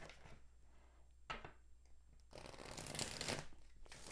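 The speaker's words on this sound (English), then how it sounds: "let's see if I can shuffle these cards" Tarot cards are shuffled in a few short riffling bursts, quiet and close, with pauses between them and a longer flurry near the end.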